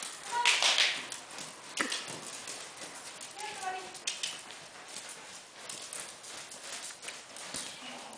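A horse breaks into a canter, its hooves clip-clopping in a quick, uneven rhythm at moderate distance, with people talking intermittently over it.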